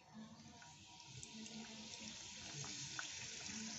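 Kathi goja dough frying in hot oil over medium heat, a soft continuous sizzle and fine bubbling that stays faint and even throughout, with a few tiny pops and no voices.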